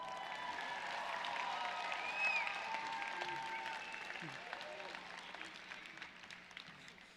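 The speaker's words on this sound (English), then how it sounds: "can we give another round of applause to all our speakers and performers?" A graduation ceremony audience applauds for speakers and performers, a soft, distant wash of clapping that slowly tapers, with scattered voices over it.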